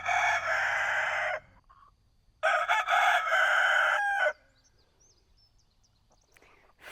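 Chickens cluck nearby, then a loud rooster crows in a long, strained call, followed by quiet with faint clucks.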